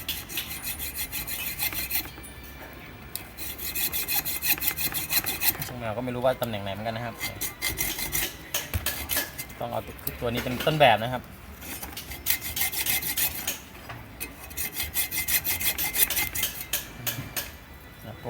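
A flat screwdriver works against a Mitsubishi DC 340V home air-conditioner fan motor, model RC0J56-AF, making repeated rasping scrapes in close bursts while someone talks throughout.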